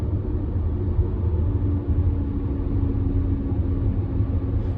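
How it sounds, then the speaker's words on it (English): A lorry rumbles past a moving MG Cyberster convertible on the road, a steady, loud low drone of engine and road noise with no talk over it. "okay, lorry coming, you can hear it"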